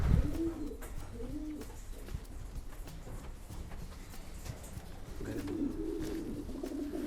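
Kipp und Söhne racing pigeons coo in a loft, several soft rolling calls close by, with steady rustling and shuffling underneath and no voices.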